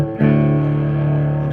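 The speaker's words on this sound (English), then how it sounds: "adds another band of distortion in on the lead channel." A Hiwatt 100R Trinity British tube guitar amplifier, in need of repair, rings out one sustained, loud, distorted note on its lead channel, holding steady for over a second.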